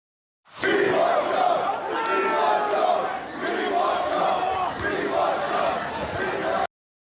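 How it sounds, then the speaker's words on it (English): A protest crowd chants "We want Trump" in loud, rhythmic unison, the shouted chant surging and dipping after an abrupt start and cutting off suddenly at the end. "there were some chants of "We want Trump" heard from the crowd earlier in the day"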